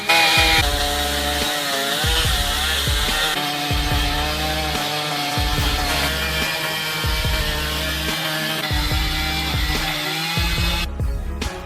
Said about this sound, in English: SherWood 880 chainsaw is about to slice through the massive sequoia log